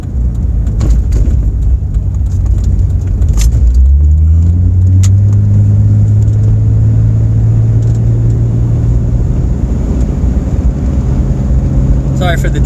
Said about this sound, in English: I just want to listen to the transmission shifting